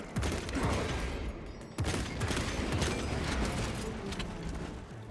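Mechanical clacks of a magazine being swapped on a bolt rifle in Space Marine 2, heard amid dense, continuous gunfire and combat noise with a sharp transient near the two-second mark.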